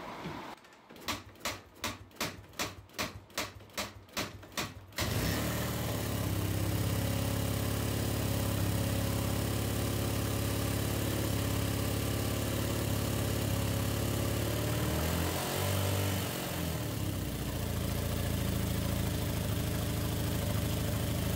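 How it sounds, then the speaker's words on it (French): A motorcycle being started for a carburetor idle adjustment: about five seconds of rhythmic cranking clatter, then the engine catches and settles into a loud, steady idle with a brief dip around fifteen seconds. "Je vais démarrer un petit peu la moto."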